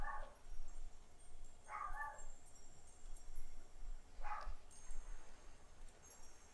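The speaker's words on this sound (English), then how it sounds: "My dog is upset. He's barking at something." Pet dog named Iggy barking off to one side indoors, three short separate barks spaced a couple of seconds apart, moderately distant and fairly quiet over a low room hum.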